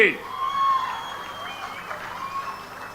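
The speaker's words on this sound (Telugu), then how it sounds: "వాళ్ళిద్దరిని కూడా గట్టిగా చప్పట్లు కొట్టి అభినందించండి." Crowd applause at a political rally addressed by Chief Minister Chandrababu, a broad, steady clapping wash that swells early and then holds at a moderate level, with a faint tonal ring over it.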